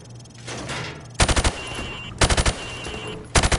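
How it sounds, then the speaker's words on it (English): Automatic rifle fired from the hip in Call of Duty Modern Warfare Remastered, heard as three loud rapid bursts of several shots each, separated by quieter pauses with faint background hum. "Now, shoot at the targets while firing from the hip."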